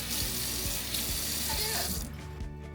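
Hot water runs from a tap at an off-grid outdoor sink in a steady, moderate flow with a broad rushing hiss. The flow stops about two-thirds of the way through, leaving low dull knocks and a quieter drip-like trickle.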